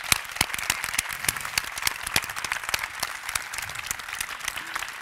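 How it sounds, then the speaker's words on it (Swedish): A large audience at an award ceremony applauds continuously, with dense, even clapping from many hands that holds steady for several seconds without talk. "En stor applåd."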